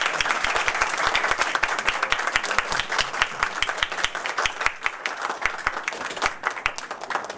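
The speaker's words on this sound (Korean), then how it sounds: "의원님들께는 특별히 박수 한번 쳐주세요." Audience at a village children and youth committee event applauding, many hands clapping in a lively, slightly uneven patter that carries on steadily with a faint murmur under it.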